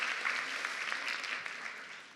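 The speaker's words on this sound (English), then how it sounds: "So we're going to give Kerry a round of applause for being up here with us today." Audience applause fills a room at a public event, a steady wash of many hands clapping at moderate loudness, holding evenly throughout before easing slightly at the end.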